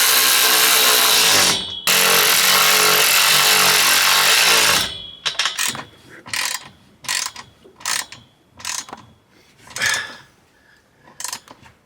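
A ratchet tightens bolts on a Pinnacle Motorsport roll cage in an E92 BMW M3 Clubsport: a long, loud burst of rapid clicking up close, then a series of short separate ratchet strokes.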